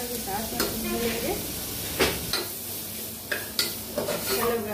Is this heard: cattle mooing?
no